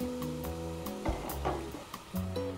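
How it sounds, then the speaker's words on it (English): A pot of spicy Korean chicken stew comes to the boil, its bubbling and sizzling close and fairly quiet, with a few sharper pops and steady tones running underneath. "Okay, it started boiling."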